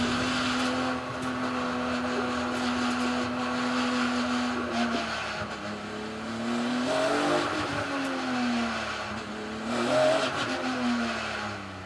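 BMW race cars on Kumho tyres circulate the Brands Hatch circuit, their engines droning and rising in pitch as they accelerate, a continuous loud revving blend of several cars passing at mid distance.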